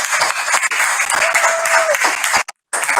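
A seminar audience applauds to welcome a speaker on people management, a steady wash of clapping running close and loud for about two and a half seconds before cutting off abruptly, with a brief return just after.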